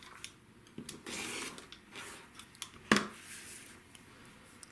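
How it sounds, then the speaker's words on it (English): Scissors snipping through folded paper at a quilt block fold line, a few close, quiet cutting strokes with one sharper snip, in a quiet room. "Now we're going to cut this off right here."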